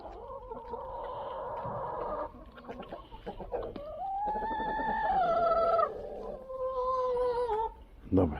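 Chickens cluck and croon nearby almost without a break while being moved into a quail pen, with a tonal rising call in the middle and a sharper squawk at the end.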